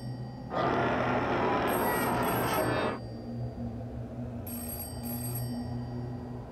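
A telephone rings in a horror audio drama, one loud harsh burst of ringing for about two and a half seconds over a low droning hum, then a fainter, muffled tone continues.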